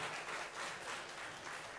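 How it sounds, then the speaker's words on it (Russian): An audience applauding after a performance by an ensemble of music teachers playing vocals, piano, violin and bass guitar, a dense, sustained wash of clapping from many hands at a soft level. "Не прекращаем аплодировать."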